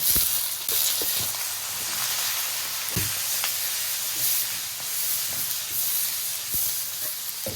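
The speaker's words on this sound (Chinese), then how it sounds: "下入大蒜，爆香， 加入青红椒。" Garlic with green and red peppers sizzles loudly in hot oil while a dry-pot dish of pork intestines is cooked, a steady dense hiss broken by occasional sharp pops and crackles.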